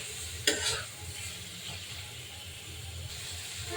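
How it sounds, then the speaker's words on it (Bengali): Small fish and raw green mango stirred and frying in a spice paste in a pan, with a brief sharp sizzle burst near the start settling into a low steady frying hiss and stirring scrapes throughout. "এই অবস্থায় আমি মাছ আর আম একসাথে দিয়ে দিব, দিয়ে মশলার সাথে কষিয়ে নিব"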